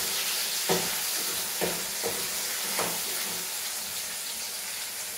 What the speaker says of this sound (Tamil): இப்போ பைனாப்பிள் போட்டுப்போம்.